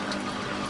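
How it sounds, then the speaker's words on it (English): Running water flows from a kitchen sink in a remodeled camper caravan in Italy, a brief, close, steady rushing splash with no voices. "the sink works out great, and I'm so proud I have running water"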